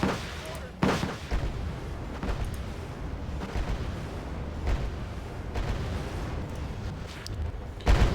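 Explosions and artillery fire from the military strategy video game Wargame Red Dragon, a dense, continuous rumble of distant booms with sharper nearby blasts near the start and end, loud and sustained throughout.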